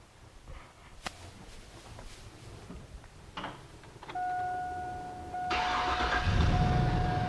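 A 2000 Chevrolet Silverado pickup engine cranks and starts after a few clicks and clunks, then settles into a steady idle with a rising hum as the AC compressor kicks on; no one speaks.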